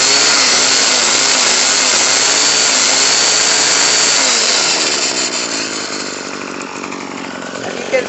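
Craftsman 25cc 2-cycle string trimmer engine running loud and close at a high, steady buzzing whine, dropping slightly in pitch and volume near the end, with no talking.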